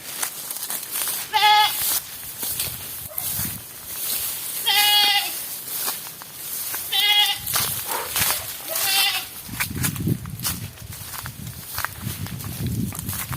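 Repeated wavering goat bleats, three or four distinct calls spaced a few seconds apart, over footsteps crunching through brush in a forest near an abandoned house in Cebu.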